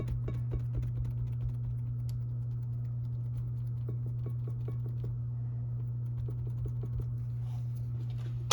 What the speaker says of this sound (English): You can hear the oven in the background.